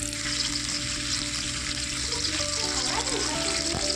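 Ginger-garlic paste frying in hot oil for a fish curry with potato and bori, a steady loud sizzle that fills the whole moment, with faint stirring beneath it.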